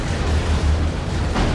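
A deep, rumbling blast from a fire prism shot in Dawn of War 2 fills the moment, a dense low boom with a rolling tail and no clear separate impacts.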